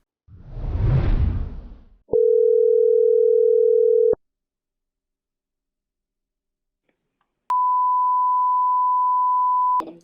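A telephone line while calling a coin shop: a burst of rustling handling noise, then a steady two-second tone, a pause of silence, and a longer single pitched tone that cuts off abruptly.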